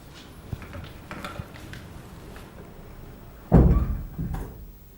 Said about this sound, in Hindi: दरवाज़ा बंद करके जाना।